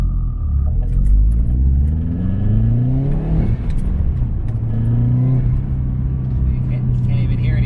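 Subaru fitted with a legal aftermarket exhaust accelerating on throttle, heard from inside the cabin: a steady low engine rumble with rising rev sweeps, dipping briefly then climbing again, under a speaking voice.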